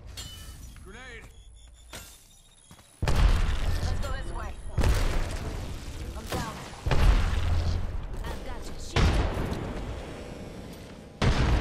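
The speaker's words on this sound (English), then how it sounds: "Grenade." Loud booming blasts from grenades and gunfire in the battle royale shooter Apex Legends, several sharp explosions over a few seconds amid game sounds and talk.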